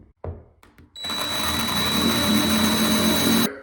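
A few sharp knocks, then a power drill whirs into bathroom tile in one continuous high-pitched run for about two and a half seconds before stopping abruptly.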